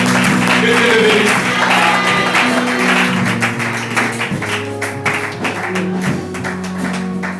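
A church congregation claps and cheers at a French-language fellowship communion service, a dense, steady patter of hands over sustained organ or keyboard chords, loud and close throughout.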